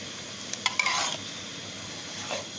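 Radish being stir-fried in a pan until the oil dries, heard as a few sharp utensil clinks and scrapes against the pan over a faint, steady background.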